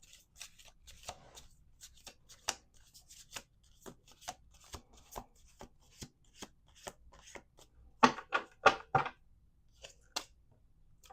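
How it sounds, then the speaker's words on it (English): Tarot cards being shuffled, a run of crisp riffling flicks and soft taps spaced through the stretch, building to a denser, louder burst of riffles near the end, with no talk. "We're going to do one more shuffle."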